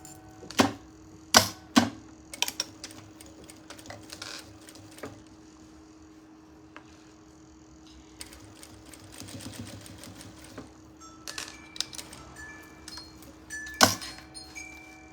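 A sewing machine stitches a seam on a fabric pencil case in bursts of rapid mechanical clatter, with short pauses between runs and a steady motor hum underneath, close by and without speech.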